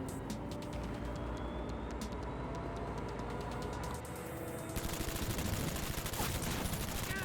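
Rapid gunfire from a moving vehicle in the video game Cyberpunk 2077: Phantom Liberty, a steady rattle over a constant engine drone that grows louder and denser in the final seconds.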